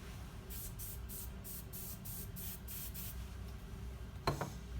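An aerosol can gives a light coat to model tree foliage in a series of about eight short, even hissing bursts in steady rhythm, followed by a brief clatter of handling, close and moderately quiet.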